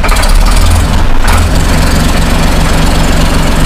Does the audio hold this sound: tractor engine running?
yes